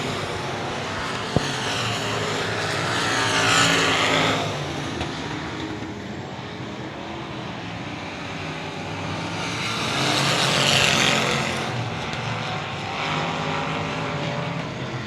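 Race cars circle the Cotton Bowl Speedway track, engines droning continuously in the distance and swelling twice as cars pass closer, with a sharp click near the start.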